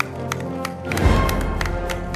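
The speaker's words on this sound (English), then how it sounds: "Let's keep the applause going, folks." An awards ceremony audience gives thin, scattered applause, with individual claps sounding sparse and distinct over a low room hum.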